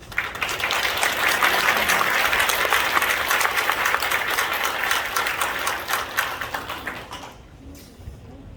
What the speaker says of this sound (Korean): 우리 목사님 나오실 때 우리 큰 박수와 함께 축복하며 맞이하도록 하겠습니다